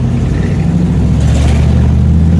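A Buick car engine revving as it accelerates, a loud, steady low mechanical drone with strong rumbling tones, heard close from inside the moving car with no talking.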